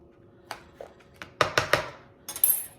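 A utensil clinks and scrapes against a bowl while tuna salad with chopped celery is mixed, a few close, sharp taps clustered together in a short burst, with no voice.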